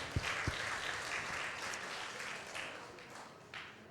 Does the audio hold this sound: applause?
yes